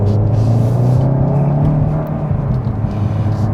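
A 2021 Kia K5 sedan in normal driving mode drones with a steady, loud low engine hum and road rumble from inside the cabin, pitch rising gently as it accelerates.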